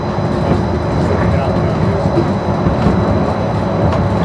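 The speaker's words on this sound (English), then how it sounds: "Welcome aboard the Disneyland monorail." Disneyland monorail in motion, a steady rumbling ride noise with faint rhythmic clatter throughout, heard from inside the car at a constant level.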